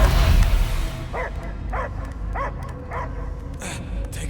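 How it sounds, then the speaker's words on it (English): In the Guardians of the Galaxy video game, a dog gives a series of short, evenly spaced barks and yips, about six in a row, following a loud burst of noise at the start. "I hear only barking."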